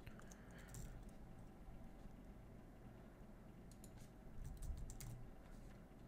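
Quiet, close computer keyboard typing as a password is entered, a steady run of soft key clicks with a few louder taps, no talk.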